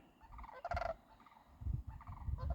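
Swans call overhead above a riverside campsite, giving a few faint honking, gobble-like cries in short bursts, with no talking.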